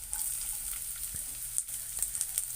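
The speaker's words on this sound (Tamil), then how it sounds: "இப்போ வெங்காயத்தை போட்டுக்கிறேன்." Onions sizzle steadily in hot oil, a constant bright hiss with a few soft pops and crackles scattered through.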